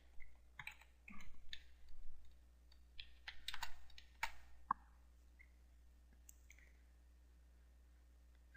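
Bursts of clicky keystrokes on a computer keyboard, typed in quick clusters over about five seconds, then quiet with a few stray taps; close and moderately loud, no talking.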